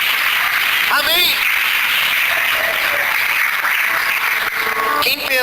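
Church congregation applauding through an evening service, a continuous loud wash of clapping with cheering voices and whoops rising above it at moments.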